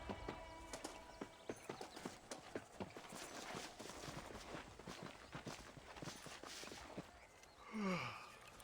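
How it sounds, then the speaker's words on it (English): Horse hooves clip-clop in the Red Dead Redemption video game, a quiet irregular patter of steps at walking pace, followed near the end by a short breathy snort or sigh. "Hitch the horse."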